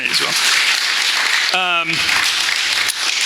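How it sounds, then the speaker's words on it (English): An audience applauds steadily in a lecture hall, dense clapping continuing throughout with a brief spoken word in the middle. "You can applaud for Bill Kennedy"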